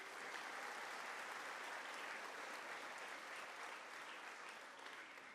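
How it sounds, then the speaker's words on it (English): A round of applause at a fifth grade moving-up ceremony, steady sustained clapping from a crowd, fairly faint and even throughout with no talk. "We'll give him a round of applause, Mr. Joyner."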